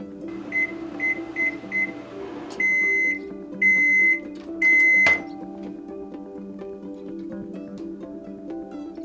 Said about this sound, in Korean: 고구마는 빨리 익히기 위해 잘라주고 전자레인지용 찜기로 간편하게 쪘다